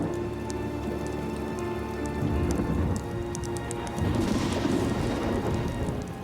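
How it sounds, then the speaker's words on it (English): Heavy rain pours steadily during a storm on a mountain cliff face, a dense close hiss of drops on rock and gear that swells louder at about two seconds and again at four, with no voices. "Once it started raining,"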